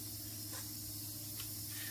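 Aerosol brake cleaner sprayed onto the front brake parts of a 2001-2012 Ford Escape during a brake job, a steady hissing spray lasting throughout with slight surges, close by and alone without talk.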